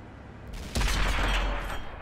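A Tiger 131 tank cannon fires at enemy artillery in World of Tanks, a single sudden heavy blast that rolls into a sustained rumble and slowly fades, with no voices over it.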